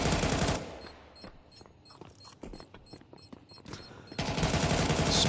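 Rapid rifle gunfire sprayed through smoke during a Counter-Strike 2 esports match, bursts of sharp cracking shots in quick succession between louder crowd and game noise at the start and end.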